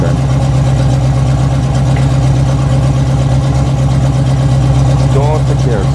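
A 1984 Chevy K20 truck engine idles with a deep, steady exhaust rumble, loud and close throughout, with a voice briefly over it near the end.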